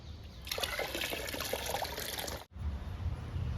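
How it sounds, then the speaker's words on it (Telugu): Liquid plant food splashes and trickles from a container onto indoor potted plants, a close, continuous pour that cuts off briefly before resuming, without talking. "ఇప్పుడు ఈ లిక్విడ్ని ఇండోర్ ప్లాంట్స్కి ఇచ్చేద్దాము"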